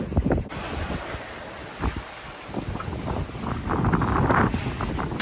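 Eight-foot ocean waves surging and crashing around a 28-foot sailboat running downwind at sea, with steady wind noise buffeting the microphone, a broad continuous roar that swells louder toward the end.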